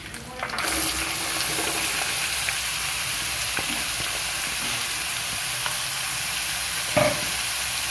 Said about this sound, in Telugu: ఇప్పుడు మనం తాలింపు బాగా వేగింది, అందులో కాకరకాయ ముక్కలు వేసుకుందాం.